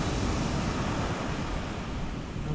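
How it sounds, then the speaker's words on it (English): Big ocean waves surge and break steadily on a shingle beach at Slapton under north-east winds, a dense, continuous close roar of surf with wind rush and no voices. "Those waves are really getting big"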